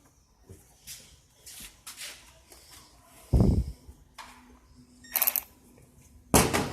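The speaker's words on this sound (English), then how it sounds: "What'd you drop? Something metal." A tiny metal piece drops during engine work on a 1967 Galaxie 500 with an inline six, giving a sharp clink among scattered shuffling and handling noises in a quiet garage.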